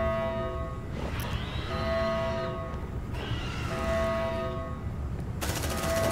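A deployed sentry gun in Aliens: Dark Descent fires steady rapid automatic bursts over a constant droning hum, with sustained loud fire all the way through.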